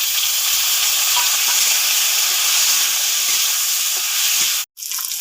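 Sliced potatoes and a tomato hitting hot oil for a fish jhal, a loud, dense, hissing sizzle that holds steady, then cuts out abruptly near the end before resuming, with nobody speaking.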